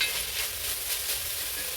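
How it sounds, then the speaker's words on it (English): Onions and carrot sauté in a pan with a soft, continuous sizzle and faint stirring, steady and fairly quiet throughout. "So we're just gonna let the onions and carrot saute down."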